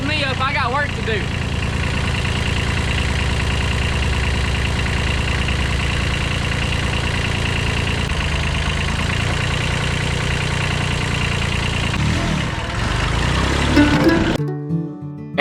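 An old Japanese tractor's engine runs in a steady, loud, low idle with constant mechanical chug throughout, someone talking over it, until it cuts off near the end.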